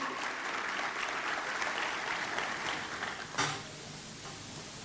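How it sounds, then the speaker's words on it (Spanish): A church congregation claps together in a sustained, even burst of applause that ends abruptly, with faint voices underneath. "Sí, aplaudamos al Señor"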